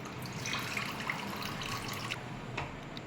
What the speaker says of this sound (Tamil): கொஞ்சம் சிறுபருப்பை எடுத்து நல்லா தண்ணி ஊற்றி முதல்ல நல்லா கழுவிடுங்க.